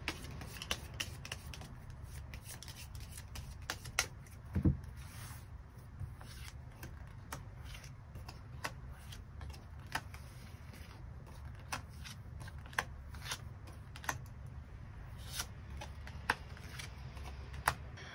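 Fortune-reading cards are shuffled and drawn in a quiet room, a long run of soft, quick papery flicks and taps with occasional sharper snaps, close and faint, with no talking.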